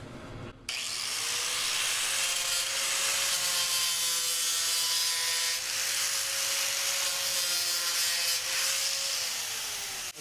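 A 36-grit sanding disc grinds steadily against a GMC Sierra HD truck liner, a loud continuous whine with a slight waver, running close by for several seconds.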